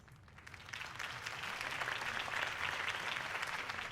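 Crowd applause in the video game Batman: The Telltale Series after a mayoral campaign speech, a steady swell of many hands clapping that rises and holds, moderately distant, with no voices.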